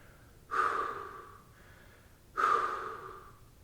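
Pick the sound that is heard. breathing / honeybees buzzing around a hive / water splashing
breathing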